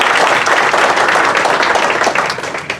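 Audience clapping at a beginning band winter concert, a dense close burst of many hands that thins and fades toward the end.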